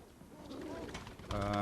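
Pigeons cooing, racing homers and show flight breeds kept in a loft, soft throaty coos close by that swell into a louder, fuller call at the end.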